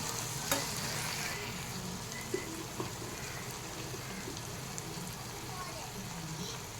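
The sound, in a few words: bitter gourd curry cooking on low flame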